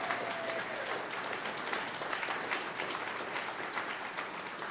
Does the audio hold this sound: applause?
yes